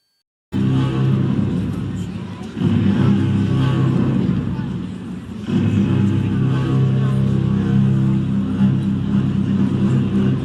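A truck driving, its engine a loud, steady low rumble that swells twice as it picks up speed, close and continuous throughout.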